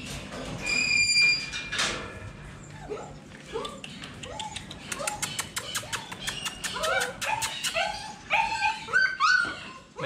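Litter of 35-day-old Phu Quoc puppies whimpering and yipping: a steady mix of thin, high whines and short sharp yips from several pups close by, sounding all through and growing busier toward the end.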